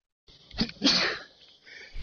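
A single short sneeze, close and fairly soft, with a brief intake before the burst.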